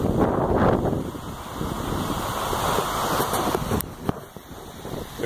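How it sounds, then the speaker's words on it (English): Water fountains splash in a constant broadband rush, steady and fairly close, with some breeze buffeting the microphone. "I am sitting here by some water fountains."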